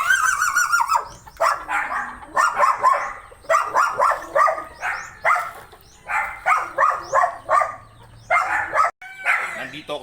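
Guard dog at a backyard chicken farm barking repeatedly in a steady series of sharp, fairly close barks, with brief pauses and a faint low sound underneath.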